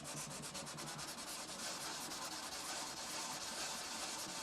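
Power sander rubbing across the wood of a Martin D15 acoustic guitar during repair work, a steady, dense, loud abrasive hiss that runs unbroken for the whole stretch with no voices.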